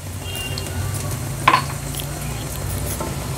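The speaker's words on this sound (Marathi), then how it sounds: "आता मिरची आणि आलं लसूण पेस्ट देखील कांद्यासोबत थोडी शिजवून घ्यायची आहे" Chopped chili and ginger-garlic paste cook with onions in a pan, giving a steady soft sizzle, with a single sharp clink of a utensil against the pan partway through.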